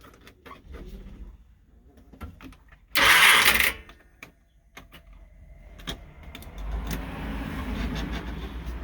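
A motorhome engine with a suspected failing fuel pump runs roughly, then cuts out. A loud whirring burst and scattered clicks follow before a low rumble returns.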